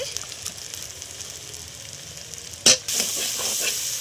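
Fried spice masala sizzling in a pan, with a steady low sizzle broken by a sharp loud burst as something hits the hot oil, then a brighter, stronger sizzle continuing.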